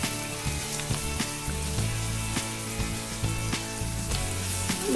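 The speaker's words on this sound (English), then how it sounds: "Fry this onion till it is pinkish in color. So let it fry nicely." Chopped onion fries in a pan with a steady, close sizzle and crackle that carries on without a break and with no one talking.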